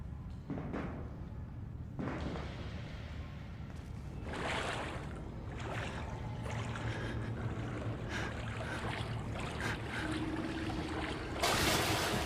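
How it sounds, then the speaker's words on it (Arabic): Splashing, sloshing footsteps wading through water in the horror video game Outlast, a steady watery churn with several louder surges, moderately loud with no talking. "في صوت حد بيمشي في الميه"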